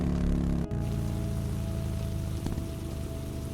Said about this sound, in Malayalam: അങ്ങ് മഴ തുടങ്ങിയിട്ടുണ്ട് മഴ എന്ന് പറഞ്ഞാൽ നല്ല ഒരു ഒന്നൊന്നര മഴയാണ് കോരിച്ചൊരിയാണ്